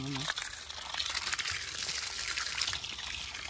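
Water pours steadily with a rushing, splashing hiss, loud and close, continuing throughout without pause.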